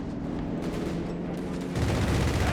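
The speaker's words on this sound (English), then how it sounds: "strafing around here onto the German artillery" Aircraft strafing German artillery in the video game Company of Heroes 3, a dense roaring rattle of heavy gunfire that swells louder toward the end, no talking.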